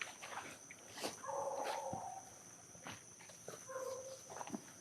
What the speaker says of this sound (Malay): Anjing ni bising betul lah.